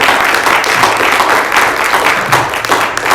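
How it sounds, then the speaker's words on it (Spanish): Congregation at a Spanish-language church Bible study applauding, a steady dense wash of clapping filling the room for the whole stretch without letting up. "Démosle un fuerte aplauso a nuestro Dios."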